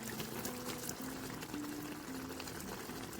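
Canned tomatoes from a 14-ounce can pouring into a pot for chicken cacciatore, a soft continuous wet gurgling slosh, quiet and steady throughout with a low background hum.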